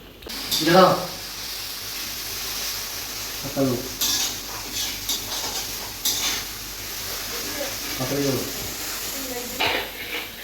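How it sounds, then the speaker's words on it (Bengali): Tempering spices in a pan for ghugni made with chana dal, rajma and soybean, giving a steady sizzle with stirring and pan scrapes while people talk over it. "এই যে ঘুগনি ফোড়ন বসিয়ে দিয়েছে।"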